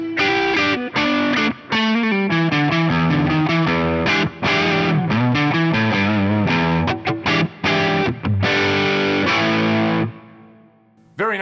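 An electric guitar played through an overdrive pedal compared against Tubescreamer-style drives, loud and punchy with aggressive distorted chords and single notes in a choppy rhythm, then a ringing note that fades out alone.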